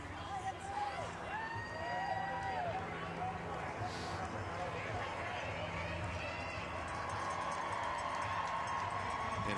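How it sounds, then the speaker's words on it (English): Crowd of spectators cheering from the roadside as a runner crosses the finish at the 2012 US Olympic Marathon Trials, a steady distant roar under a commentator's voice. "And Hastings getting a cheer,"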